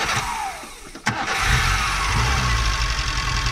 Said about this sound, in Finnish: Nyt kuulostaa siltä, että Nisseni lähti tulille.